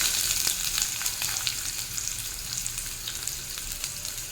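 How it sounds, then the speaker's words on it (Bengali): Chopped onions hit hot oil for a Bengali fish-head tamarind chorchori, giving a steady, moderately loud crackling sizzle with small pops and no talking. "তেল গরম হয়ে গেছে, এখন দিয়ে দেবো কেটে রাখা পেঁয়াজ"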